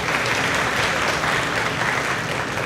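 Steady, dense applause fills a high school senior award ceremony, a large audience clapping continuously at an even level with no break.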